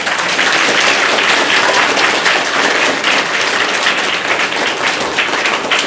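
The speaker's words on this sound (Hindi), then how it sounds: "अब जोरदार ताली बजाओ अपने लिए।" A spiritual gathering's audience claps loudly for themselves, a dense, sustained burst of many hands clapping at once that stays strong for several seconds.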